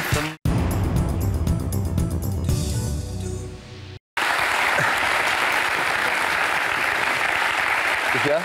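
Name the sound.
studio audience applause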